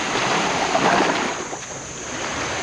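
Sea waves washing onto a clear-water beach in Nakhon Si Thammarat, a steady broadband surf wash with wind across the microphone, near and fairly loud with no talking.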